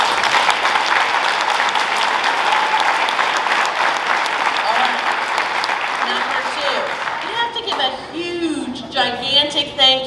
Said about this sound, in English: Big round of applause for the parents.